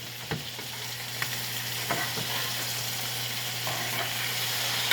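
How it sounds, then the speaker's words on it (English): Filet mignon sizzles in a pan as it is basted with butter: a continuous close crackling fry with a few soft clicks of spoon or pan contact, no talking. "Okay, I'm going to do some more basting."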